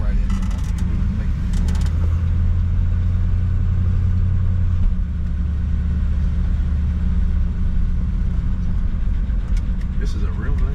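A car rolls into a parking lot in a small town, its engine a steady low rumble throughout, with people talking over the drone inside the vehicle.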